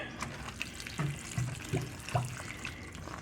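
Water pours from a jug onto potted plants, a few short splashy gurgles in quick succession with a light trickle between them, close and moderately loud.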